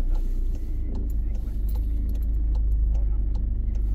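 Car driving on a roundabout test route during a driving lesson, a steady low engine and road rumble with small clicks and rattles inside the cabin, close and continuous, with no one speaking.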